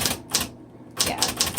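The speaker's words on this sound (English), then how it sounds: "3 keys on an electric typewriter that have an auto repeat" Rapid auto-repeat typing on a 1960s Smith Corona Coronet electric typewriter: close, loud bursts of fast mechanical strikes, a short pause, then a longer burst of repeated clacks, with no voices.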